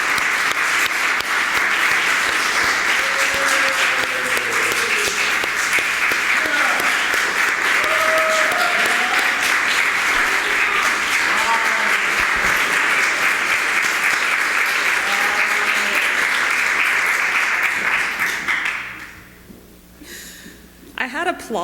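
Church audience applauding after thanks during a sermon, sustained dense clapping from a crowd for nearly twenty seconds with a few voices under it, then fading out quickly.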